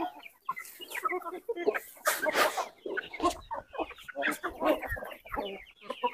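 Free-range country chickens clucking at feeding time on a farm where they are fed pearl millet, a busy run of close, overlapping clucks and squawks, with someone talking between them.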